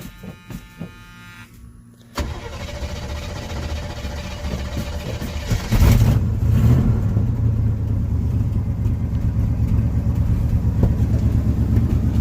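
A 1980 Chevy K10 cranks, then fires up into a loud, steady rumbling idle with some popping, heard up close and without talk.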